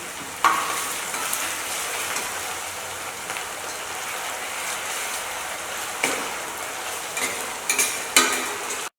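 Onions frying in a pan for pickle, a loud continuous sizzle like rain with occasional stirring clinks and scrapes, no talking.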